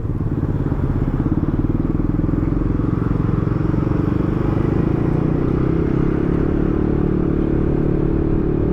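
A motor scooter rides past on a busy road, the steady engine drone and road clatter continuing under the rider's own engine hum throughout.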